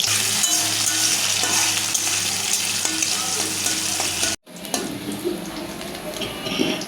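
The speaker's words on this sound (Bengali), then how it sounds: "তেলটা গরম হয়ে গেছে পেঁয়াজ দিয়ে দিলাম কাঁচামরিচ দিয়ে দিলাম" Onions and green chilies frying in hot oil, giving a loud, steady sizzle. The sizzle cuts out for a moment, then comes back rougher, with scraping and stirring noises over it.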